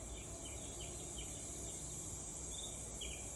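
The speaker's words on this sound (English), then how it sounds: "long days are filled with the sound of cicadas" Cicadas in summer fields make a steady high-pitched buzzing drone that stays even and fairly faint, with a few slightly brighter chirps riding on top.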